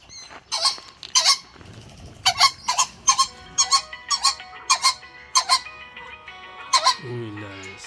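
Young roosters in a poultry yard give a run of short, strained crowing squawks and clucks, several bursts in quick succession close by, ending in a low voice.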